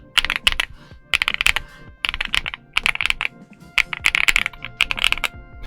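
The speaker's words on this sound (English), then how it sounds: "this keyboard seems to have a very poppy, almost deep sound profile" Typing on a Weikav Lucky65 v2 keyboard fitted with Litchi Milk switches and PBT keycaps: close, loud bursts of poppy, fairly deep keystrokes in uneven rapid runs with brief pauses, no voices.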